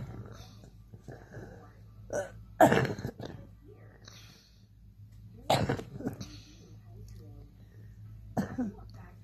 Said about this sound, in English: So that's how I cough.